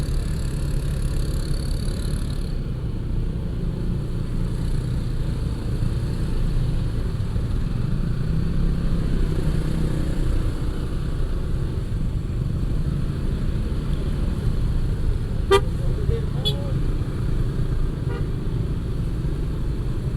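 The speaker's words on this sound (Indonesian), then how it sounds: "Lumayan macet yang agak panjang." Congested holiday traffic crawling on the mountain road to Dieng, with a steady low rumble of cars and motorcycle engines throughout and a couple of short horn toots near the end.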